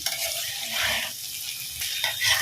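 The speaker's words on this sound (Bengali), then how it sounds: "তেলের মধ্যেই আমি এগুলোকে ভাজা করে নরম করে নেব" Vegetables sizzle in hot oil in a home kitchen pan, a close, steady hiss that swells and fades as they are stirred, with no talking.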